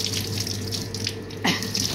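Water running steadily from a shower at home, a continuous hiss with a brief splashing burst partway through, fairly close and with no talking.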